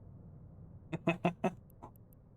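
A duck quack sound plays as a quick run of four nasal quacks close together, then a softer fifth call, over a quiet hum.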